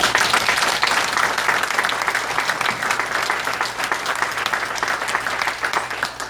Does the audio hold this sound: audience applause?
yes